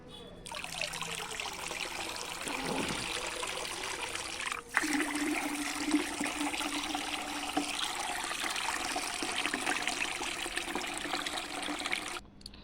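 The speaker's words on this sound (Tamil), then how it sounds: "இப்போ இந்த ரெண்டு பக்கெட்டும் கப் இந்த டப்லையும் நல்லா தண்ணியை ஊற்றி நல்லா கலந்துட்ருக்கேங்க" Water poured into buckets and a tub to dilute liquid rose fertilizer, a continuous trickling, splashing stream that shifts slightly midway and runs steadily for several seconds without speech.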